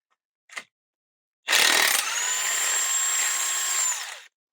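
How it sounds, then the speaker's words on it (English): A power tool loosens a bolt on the front lower wishbone of a Vauxhall Astra, starting with a brief tap, then a loud, steady whirring run of about three seconds up close with no talk. "come round to the bolt side and loosen the bolt off itself"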